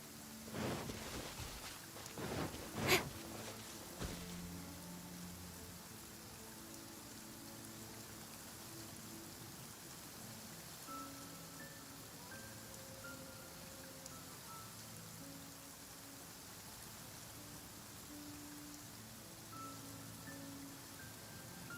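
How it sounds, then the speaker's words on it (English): Steady heavy rain pours down throughout, a dense even hiss with a few louder knocks and clatters near the start, then continuous downpour with faint tonal sounds in the background. "Quite a downpour."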